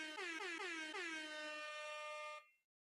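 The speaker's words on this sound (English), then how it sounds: "I love that air horn." An air horn sound effect blasts in a loud, pulsing honk that settles into one sustained, brassy tone and then cuts off abruptly, leaving silence.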